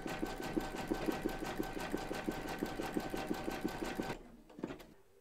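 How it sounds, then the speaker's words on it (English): An embroidery sewing machine zigzag stitching a towel topper, with a steady rapid mechanical rhythm of needle strikes and motor hum running loud and close for about four seconds, then stopping, followed by a single brief clunk. "we're now going to pop that into our machine and stitch round number 13, and that's going to zigzag along here and join the two pieces together"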